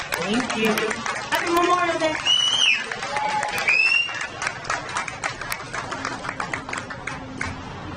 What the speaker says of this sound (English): keep the round of applause going for Edith